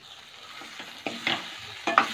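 Colocasia stem and potatoes cooking in a pan on a low flame: a soft, steady sizzle with a few sharper clinks and scrapes that grow louder toward the end.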